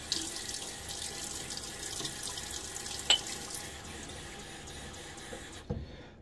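Tap water runs steadily into a sink to soak a badger shaving brush, a soft continuous splashing hiss with a faint clink midway, cutting off near the end; no talking.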